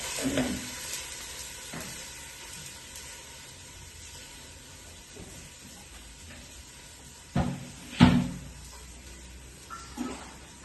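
Water goes into hot oil tempered with asafoetida in a home kitchen and hisses. Quiet stirring and soft clatter give way to two sharp, loud sizzling bursts, followed by a smaller hiss.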